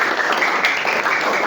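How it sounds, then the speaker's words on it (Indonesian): Classroom applause for a student during a lesson on blood components, a short dense burst of clapping from a group of students, fairly loud and steady. "Kasih tepuk tangan buat Anwar."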